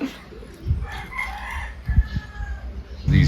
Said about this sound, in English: Chrissy, all these roosters make me want chicken for dinner.